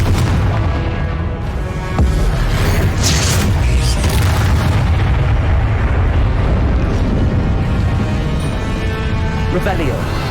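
A fiery blast spell going off in Hogwarts Legacy on PS5, a loud, heavy boom and roaring burst amid dense, continuous game combat noise, with a spoken incantation blended into the mix.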